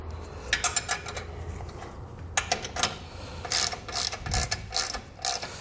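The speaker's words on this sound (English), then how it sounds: "To do this, we're going to be using a 19mm socket and wrench." A 19mm socket and ratchet wrench snugging bolts on a tow base plate kit for a 2020 Jeep, giving several quick bursts of close metallic ratcheting clicks separated by short pauses.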